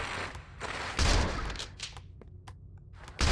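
Gunfire from a shooter game set in a horror lab, firing at a creature that won't go down: dense bursts of shots at 1 and 3.2 seconds, with scattered sharp single cracks in between, loud and close.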